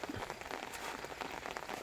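Rain falls steadily on a small home garden, an even dense patter of drops holding at a constant level throughout, with no voices.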